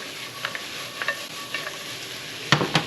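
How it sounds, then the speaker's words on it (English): Salted vegetables for a frittata cook in a pan, a soft steady sizzle punctuated by several brief scrapes and clacks of stirring, the louder ones near the end, with no voices. "We're going to let this cook for a few"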